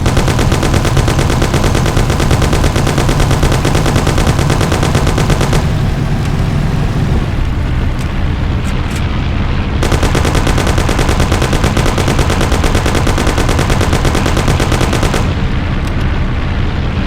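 Dense, continuous gunfire from the video game Mafia: The City of Lost Heaven, a loud rapid barrage of shots that briefly thins twice before resuming at full intensity.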